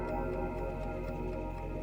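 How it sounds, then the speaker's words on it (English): A mysterious ticking noise in the video game Trails of Cold Steel, a steady rhythmic tick repeating over a sustained tonal music bed at moderate volume. "Ooh, and a mysterious ticking noise. Kind of catchy."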